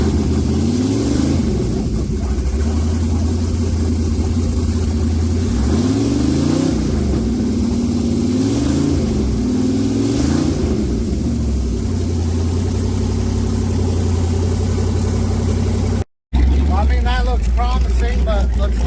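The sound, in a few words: 5.3 engine starting and running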